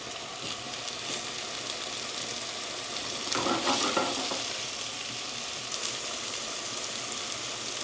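Food frying in a pan over a high gas flame for veg dum biryani, a loud continuous sizzle and crackle that swells briefly midway as the contents are stirred, heard alone without speech.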